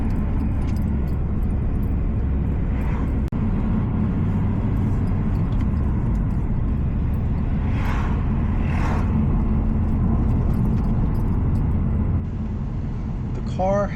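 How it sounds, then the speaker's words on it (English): A car with a silencer fitted in its exhaust idles or cruises with a steady low rumble, while faint metallic jingles and brief voices come through at points. "The car has a silencer in it right now."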